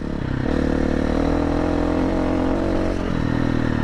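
KTM 350-500 EXC dirt bike engine with an uncorked exhaust revving hard and close, a sustained rasping blat that dips briefly then climbs again.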